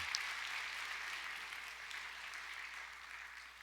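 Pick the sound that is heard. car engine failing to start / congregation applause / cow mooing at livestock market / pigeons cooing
congregation applause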